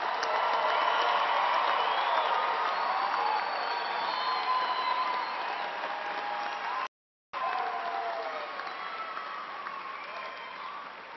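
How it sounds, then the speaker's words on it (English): University spring commencement audience applauding the graduating class, a broad sustained wash of applause from a large crowd with faint cheering, briefly cut off before resuming. "One more round of applause for them, please."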